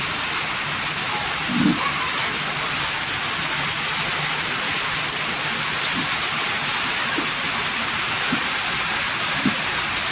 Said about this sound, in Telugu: ఫుల్ వర్షం పడుతుంది ఇక్కడ